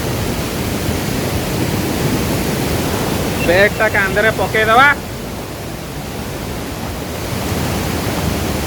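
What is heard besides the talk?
waterfall roar at Chaulibhaja waterfall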